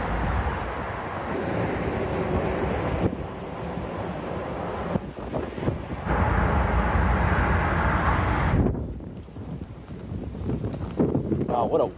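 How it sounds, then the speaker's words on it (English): Strong wind on the LHHT hiking trail buffets the microphone in loud, rumbling gusts that drop away briefly near the end before returning. "What a windy day it is today."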